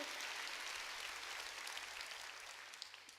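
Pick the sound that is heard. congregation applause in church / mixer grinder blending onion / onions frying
congregation applause in church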